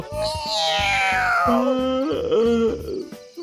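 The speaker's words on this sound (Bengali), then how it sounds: "বিড়াল, তুমি ঘুমিয়ে পড়ো।" A cartoon cat gives a long, drawn-out wail that slides from high to low, followed by shorter stepped meows, loud and close over rhythmic background music.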